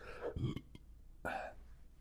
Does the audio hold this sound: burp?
yes